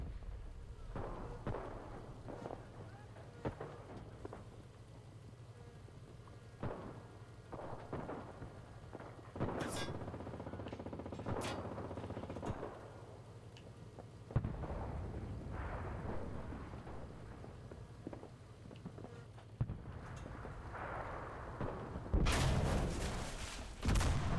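Tank battle in the shooter Enlisted, with booming cannon fire and rumbling explosions recurring over a steady low engine drone, capped by a loud closing blast.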